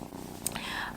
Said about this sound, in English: This foster kitty's got sharp claws and she's climbing my back again.